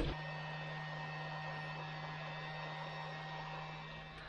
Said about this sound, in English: I'll just put my heat shrink tube on and shrink that into place.